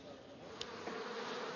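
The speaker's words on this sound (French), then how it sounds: "Les abeilles n'ont que 3 semaines pour butiner les acacias" Honey bees buzz around acacia blossoms at the foot of the Pyrenees, a continuous soft droning swarm at moderate distance with no talk.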